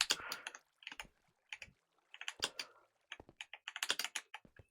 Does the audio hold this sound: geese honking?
no